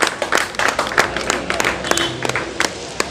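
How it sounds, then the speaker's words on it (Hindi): An audience at a Samajwadi Party gathering gives brisk, uneven applause, with many sharp claps close by in a fast irregular patter throughout. "तालियां बजाएं भरपूर।"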